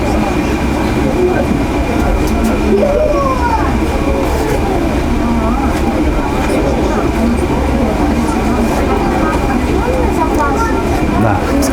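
A tram on a Crimean tramway rolls along with a continuous rumbling roar and faint wheel squeals, while someone talks over it throughout.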